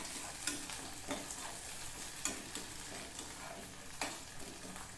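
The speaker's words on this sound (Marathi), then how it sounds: "कांदा आपला चांगला ब्राऊन होत आहे" Onion frying in a pan with garlic, ginger, cinnamon and a bay leaf gives a steady, soft sizzle, with occasional stirring scrapes and taps at a close, quiet level.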